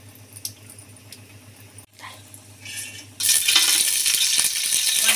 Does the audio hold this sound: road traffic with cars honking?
no